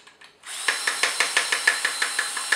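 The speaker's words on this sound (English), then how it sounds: "So I send the drill in reverse." A power drill runs in reverse inside an Ecodrill jig clogged with wood shavings, a close, steady whir with regular rhythmic rattling knocks about three per second.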